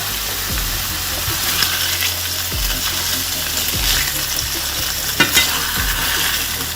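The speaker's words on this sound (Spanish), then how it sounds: "La carne se va haciendo, le voy a dar la vuelta" Pork slices for Portuguese bifanas fry steadily in a pan with a continuous sizzle, while a few low thumps and scrapes mark the meat being stirred and turned, with no voices.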